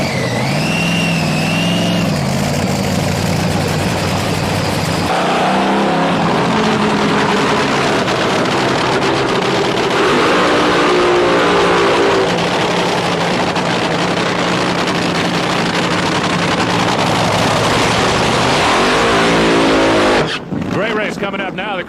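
Drag racing cars roar down the track at a F.E.D.S. main event, a loud, sustained engine blast that swells and fades, with an announcer talking over it throughout.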